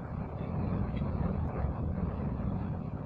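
In the Kerbal Space Program video game, a space plane's engine throttles up for takeoff with a steady, loud, broadband roar that holds evenly throughout.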